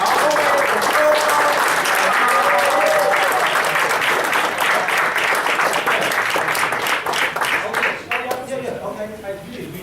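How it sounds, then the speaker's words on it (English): A live audience gives loud, sustained applause to welcome a speaker, dense clapping filling the room before tapering off as voices start to come through near the end. "Give a big round of applause and warm welcome to my friend, Mr. Todd Bagley."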